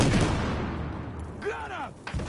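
A frag grenade explodes in a competitive online shooter match, one loud close blast with a booming decay, and a voice is briefly heard near the end.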